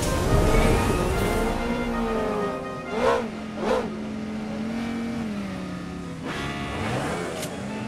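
Vehicle engine in the battle-royale game Knives Out, a steady droning hum with pitch that rises and falls as it drives, two short bumps around the middle and a surge of revving near the end, fairly close and continuous.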